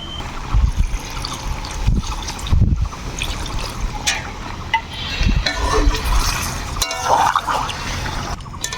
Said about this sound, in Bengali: এই সময় আমরা দিব হচ্ছে সামান্য জল